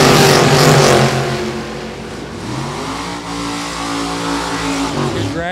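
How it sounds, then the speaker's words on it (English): Nostalgia and modified drag race cars roar down the strip at a hot rod reunion event, a loud sustained engine blast with rising revving pitch that stays close and dominant throughout. "Good drag race."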